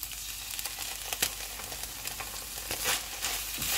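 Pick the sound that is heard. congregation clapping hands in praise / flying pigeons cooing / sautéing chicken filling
sautéing chicken filling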